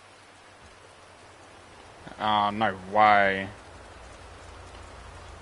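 Steady rain falls throughout in the GTA 5 video game, a continuous hiss that stays even while a voice briefly speaks over it midway.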